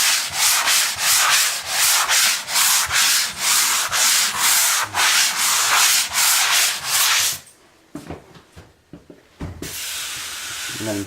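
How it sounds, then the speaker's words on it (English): Sanding block rubbed over spackled drywall in steady, close back-and-forth strokes, a rhythmic scratchy rasp that stops partway through, followed by a few lighter scrapes. "lightly sand it up."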